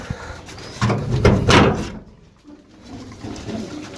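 Nearby pigeons coo and rustle, with a burst of flapping wings in the middle, then quieter soft cooing afterward.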